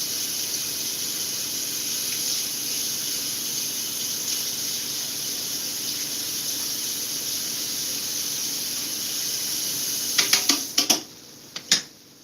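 Wooden spatula rinsed under a running kitchen tap, a steady bright hiss of flowing water that ends with a few clacks and knocks.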